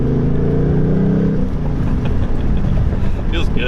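A 2018 Ford Mustang GT's Coyote V8 revs hard above 5,000 RPM, a loud, close, droning engine note that eases off, with someone talking over it.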